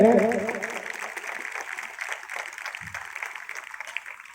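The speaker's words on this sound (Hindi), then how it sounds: "जोरदार ताली से स्वागत करें" Students and guests at a Jawahar Navodaya Vidyalaya event in Begusarai welcome speakers with applause that starts strong and then thins into a faint, steady patter heard from some distance.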